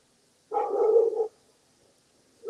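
A dog gives a single loud, sustained bark or yelp up close, lasting under a second, followed by near silence and the start of another sound at the end.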